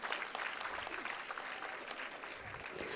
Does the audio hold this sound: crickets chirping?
no